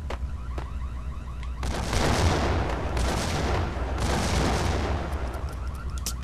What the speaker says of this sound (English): Oh, they're freaking firing RPGs at me